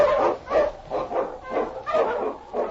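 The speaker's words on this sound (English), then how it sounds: "The Wonder Dog King, swiftest and strongest of Eskimo lead dogs" An Eskimo husky lead dog in an old-time radio drama barks in a regular series of about six loud, close woofs, evenly spaced with short pauses between.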